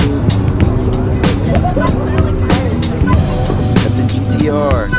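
Nissan GT-R with a straight-pipe exhaust drives past at a busy nighttime car meet, its engine rumbling steadily and close amid crowd chatter and babble, with sharp pops and whoops cutting through now and then.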